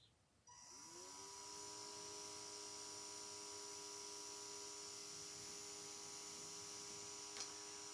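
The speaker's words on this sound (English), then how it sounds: "With the PWM engaged, there's actually a soft tone that you can hear. It almost sounds like a piezo electric transducer" Temperature-controlled fan run by PWM gives off a soft, steady high-pitched tone like a small piezo buzzer, starting after a brief pause and holding constant and faint over a low electrical hum.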